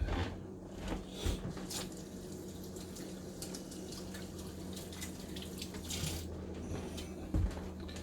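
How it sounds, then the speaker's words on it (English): Tap water runs faintly into a kitchen sink as hands are washed, with soft splashing and occasional louder drips and knocks. "Time to wash my hands again."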